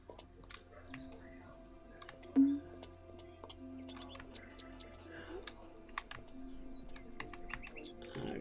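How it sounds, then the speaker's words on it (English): Bird chirps in the Lumberjack Dynasty video game, small brief tweets scattered over a steady low ambient game hum, with one louder short call near the start and faint scattered clicks. "scare that bird out of here"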